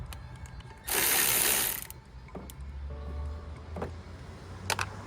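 A ratchet wrench on a 10 mm bolt in the engine bay of an Acura TL Type-S, with one loud, close burst of rapid ratcheting clicks lasting about a second, followed by quieter scattered clicks and ticks against a low hum.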